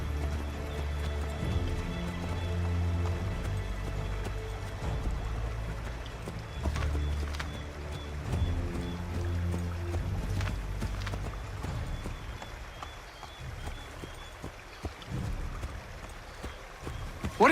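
Horse hooves clop in a steady trotting rhythm in the video game Assassin's Creed III Remastered, moderately loud over ambient game sounds, with the pace breaking up toward the end.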